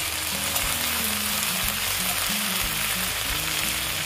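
Onion, garlic and ginger fry in a pan for an egg and potato curry, giving a steady, close, loud sizzle with occasional stirring scrapes throughout.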